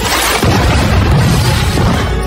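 A massive explosion destroys a laboratory and the tower above it in an action film, a loud sustained roaring blast with crashing debris and rumble filling the whole moment.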